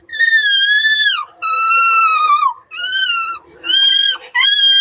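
A man imitates a puppy with his voice, giving a series of high, drawn-out whining yelps and howls, four or five wavering cries separated by short pauses, close and loud.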